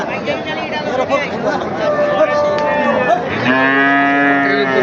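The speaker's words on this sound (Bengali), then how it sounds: "চমৎকার চমৎকার সব সার গরু বড় বড় সার গরু" Cattle at a bull market in Ambari, where Qurbani bulls are bought and sold, moo loudly and repeatedly, with one long, deep, sustained moo near the end, over a steady murmur of crowd chatter.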